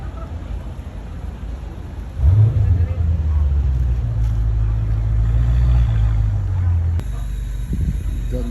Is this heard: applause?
no